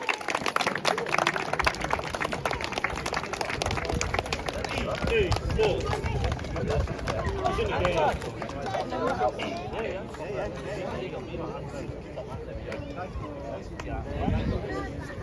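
A crowd at a Sunday League football cup final gives sustained, dense applause for the match officials receiving their medals, with voices mixed in and the clapping tapering slightly toward the end.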